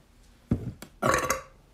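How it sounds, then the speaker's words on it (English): Someone drinking beer lets out a close, loud burp in two parts, a short gulp-like start and then a longer, rasping belch, with no talk. "Hashtag burp squad."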